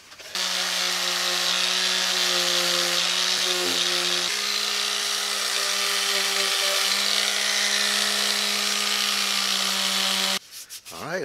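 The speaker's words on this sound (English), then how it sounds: "so let's get to sanding" Steady, continuous sanding of epoxy-coated model airplane parts, a close, even abrasive rubbing that runs unbroken for about ten seconds before stopping, with a few handling sounds at the end.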